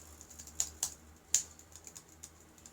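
Computer keyboard typing, heard as a few sharp clicks near the start followed by lighter, scattered keystrokes, close and moderately quiet with no voices.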